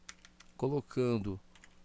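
Faint, scattered keystroke clicks from a computer keyboard as three quotation marks are typed and Enter is pressed in a code editor, heard before and after a short stretch of someone talking.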